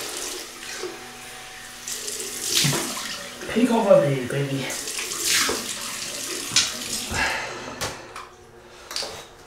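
Cold tap water runs and splashes into a basin during a wet shave, with a person talking over it and some clattering as a razor and things are rinsed.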